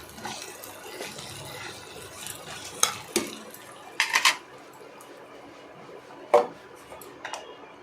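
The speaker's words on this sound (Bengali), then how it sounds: "এই আদা বাটা আদা লঙ্কা পেস্টটা দিয়ে দিলাম দিয়ে ভালো করে নাড়াচাড়া করলাম" Ginger and green chili paste being stirred in a pan for Kashmiri aloo dum, giving soft scraping with a few sharp clinks of a spoon against the metal pan, close and fairly quiet, with no talk.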